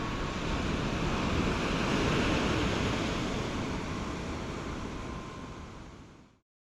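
Sea waves washing onto a beach at sunset, a broad steady roar of surf mixed with wind buffeting, fading out at the end.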